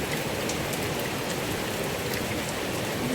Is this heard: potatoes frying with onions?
no